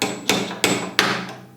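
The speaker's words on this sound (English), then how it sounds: "I can use just a small hammer" A small hammer taps a cotter pin into place through a flathead screwdriver during an auger feed motor replacement on a GMG Davy Crockett pellet grill: three sharp, evenly spaced metallic knocks, loud and close, with no talking.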